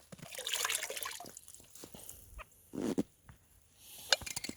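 Hot water poured into a frozen pet bowl in sub-zero cold to loosen the ice, a brief splashing trickle with small knocks, alone and close.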